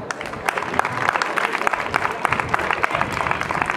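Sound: applause in town square

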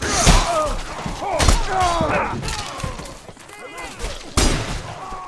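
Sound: bullet parried with a weapon in the video game Mordhau

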